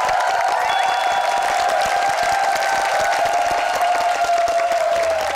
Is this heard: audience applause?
yes